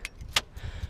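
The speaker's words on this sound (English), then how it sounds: "So I'll just take the keys out," Car keys jangle briefly as they are pulled from the ignition of a Mini that won't start, a close metallic rattle with a sharp clink in the middle, alone and fairly quiet.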